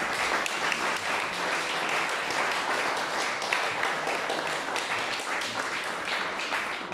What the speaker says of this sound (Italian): ne farei un applauso anche a Antonio Grella.